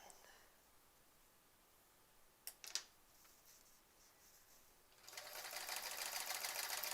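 A sewing machine free-motion quilting a sampler quilt starts up near the end and runs with a fast steady hum, preceded by a quiet stretch with a couple of small clicks.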